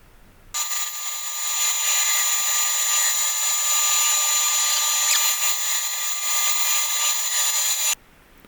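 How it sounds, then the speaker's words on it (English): A saw blade cuts walnut and maple in curves for an end grain cutting board, giving a steady, close, high-pitched whine that holds evenly for about seven seconds, then stops abruptly. "And then you just cut it in weird curves."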